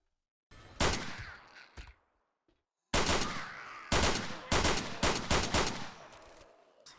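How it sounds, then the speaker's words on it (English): A 9mm pistol fires in 7 Days to Die, with the Escape From Tarkov mod loaded: sharp loud shots ring out close, first a couple of spaced single shots, then a quick irregular volley, each with a short decaying tail. "This is a fun pistol. Just a good old 9mm."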